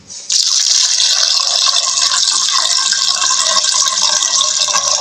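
Water gushes steadily into a cooking pot for beef sinigang, a loud, continuous close-up pour that starts abruptly and keeps running for several seconds, with no voices.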